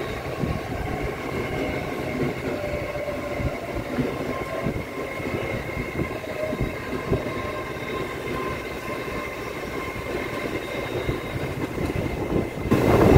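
A CrossCountry passenger train bound for Reading rumbles steadily past a station, with continuous rolling wheel noise and faint rail squeal throughout, fairly close and with no talk.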